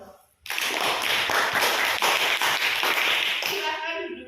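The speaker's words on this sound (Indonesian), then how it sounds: "Beri tepuk tangannya untuk kelompok 2." Classroom applause for a student group, many hands starting abruptly together after a brief pause, then a brisk, fairly loud run of clapping with sharp individual claps standing out. It tapers near the end as a faint voice comes in.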